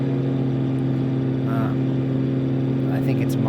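Cessna 414 twin-engine prop plane cruising, a loud unbroken engine drone with steady low harmonics filling the cabin, brief faint speech sounds mixed underneath.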